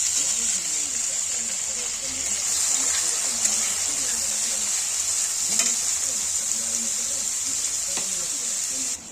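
Chopped spices tipped into hot oil for a dhaba-style chana dal tadka, giving a loud, steady sizzle and frying hiss with stirring clinks throughout, the spluttering continuous and close.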